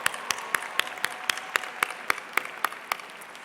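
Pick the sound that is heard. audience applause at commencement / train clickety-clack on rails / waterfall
audience applause at commencement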